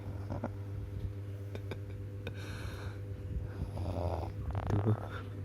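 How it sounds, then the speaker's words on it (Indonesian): Snoring from a sleeping person nearby, a steady low rasping drone with a louder snort-like swell near the end, no talking. "Tuh, ngorok lagi."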